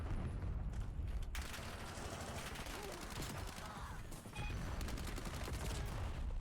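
Dense bursts of automatic gunfire crackle through a Black Ops 7 match, loud and near, with booms and mechanical clatter in a continuous barrage.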